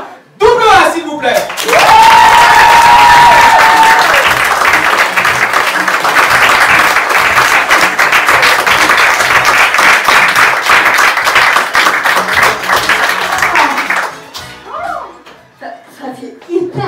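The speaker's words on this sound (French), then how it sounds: "Je vous demande d'applaudir double A, s'il vous plaît." Loud, sustained audience applause and cheering for a stage performer at an evening show, starting abruptly and holding steady for about twelve seconds before fading as a voice returns.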